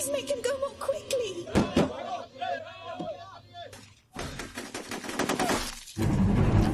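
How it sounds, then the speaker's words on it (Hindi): Bursts of film gunfire from the Indian movie Rang De Basanti, loud sharp cracks and rattling volleys mixed with shattering impacts and music, with voices heard in between. "और अब ऑल इंडिया रेडियो से गोलियों की आवाज आ रही है"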